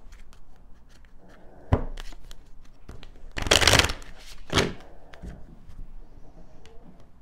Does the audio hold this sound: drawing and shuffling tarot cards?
yes